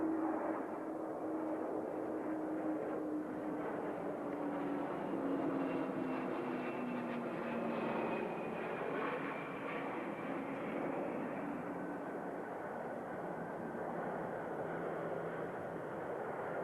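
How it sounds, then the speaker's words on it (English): An Antonov aircraft flies a display at the 1992 Australian International Air Show at Avalon, a loud, sustained engine roar with a slowly falling whine as it passes, with no voices. "Nobody could accuse the Antonov of being a beautiful plane, but in the air it's nothing if not stately."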